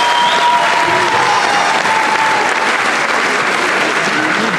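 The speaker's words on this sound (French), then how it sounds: "Elune, on peut l'applaudir." A convention audience at Mang'Azur 2023 loudly applauds Elune, a cosplay jury member, with dense, continuous clapping and a few faint tonal whistles or voices mixed in.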